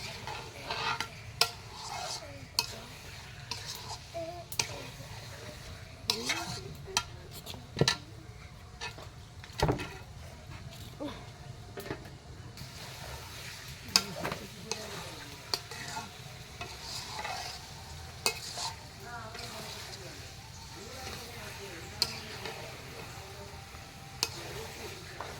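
Country chicken meat stirred and sautéed in a pan, with close, steady sizzling and frequent scraping clicks of a spoon against the pan throughout.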